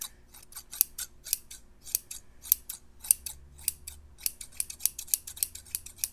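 Antique scissors snip repeatedly in a quick, uneven rhythm of crisp close-up cuts, recorded quietly for haircut-style ASMR with no talking.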